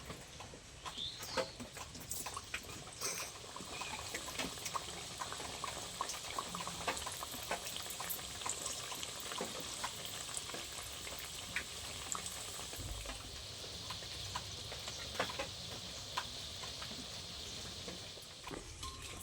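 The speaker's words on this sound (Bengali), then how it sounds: "বাকিগুলো একই রকমভাবে আমি ভেজে নেবো" Nimki dough pieces deep-frying in hot oil give a steady, busy bubbling sizzle throughout, with scattered crackles and occasional clinks of a utensil, no voices.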